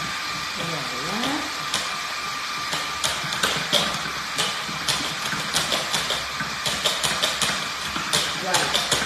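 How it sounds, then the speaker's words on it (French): Electric hand mixer whipping caramel cream, a steady close motor whine with a clattering, rhythmic beater tapping against the bowl, continuing under intermittent talk. "On va assouplir donc la crème au caramel avec le batteur."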